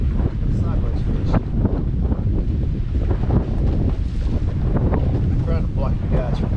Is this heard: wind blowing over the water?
yes